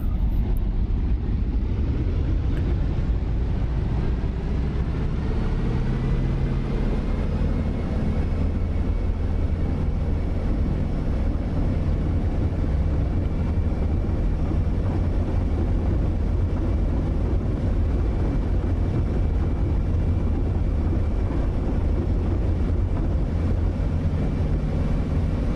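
A P-47 Thunderbolt propeller engine in the flight simulator DCS drones at full power during takeoff, a steady, loud, low rumble that stays constant throughout.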